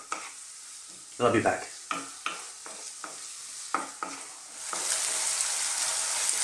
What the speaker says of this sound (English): let's sweat these down for a few minutes